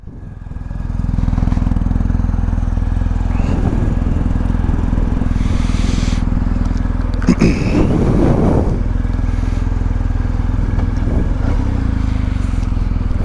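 A 2023 BMW R 1250 GS Adventure motorcycle engine running loud and close as it pulls away, a steady low throbbing rumble with brief revving swells, while a rider talks over it.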